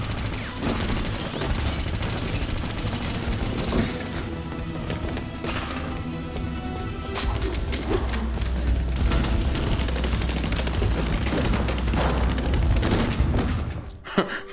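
Automatic weapon fire in a first-person shooter video game, with dense sustained bursts and booming impacts running for most of the stretch, loud and continuous, with faint voices at times.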